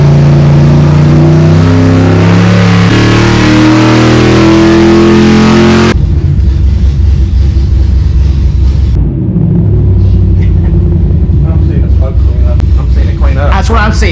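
Gen 3 Hemi V8 engine revving hard on a dyno, a loud sustained high-rpm roar that drops abruptly partway through into a lower rumble, with people talking over it.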